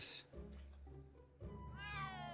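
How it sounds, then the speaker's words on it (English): A cat named Ms. Pretty Whiskers meows in Back to the Future: The Game, two drawn-out meows heard close and clear, the second longer and rising. "She had a kitty cat."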